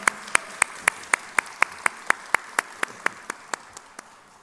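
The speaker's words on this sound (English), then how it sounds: "give a huge round of applause for both the OGs here" A crowd at a bike launch meetup with Ram Charan claps in a steady, evenly spaced rhythm, about two claps per second, crisp and loud, continuing for several seconds.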